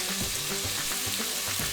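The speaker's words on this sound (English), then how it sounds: "You hear that sizzle? That's what you want to hear." Steady loud sizzling of vegetables and brown rice stir-frying in a hot pan, with occasional clinks and stirring sounds, close up and continuous.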